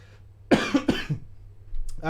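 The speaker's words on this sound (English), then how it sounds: "It's because I'm going to cough." A woman coughs about three times in quick, harsh bursts close to the microphone, with a rough throaty edge and short gaps between them, then a breathy sound follows. A low steady hum sits underneath.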